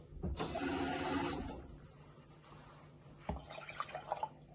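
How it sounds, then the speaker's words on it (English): Water splashed into a pan while cooking a cornflour-thickened dish, a broad bright pouring burst lasting about a second, close and loud, followed by quieter sizzling and clinks. "And then it's just a splash of water."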